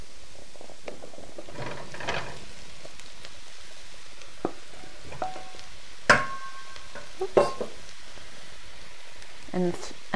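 Pumpkin cooking in a spinach and pumpkin curry pan, with a low background sizzle and occasional scraping and clinking as it is stirred, plus faint voice-like murmurs.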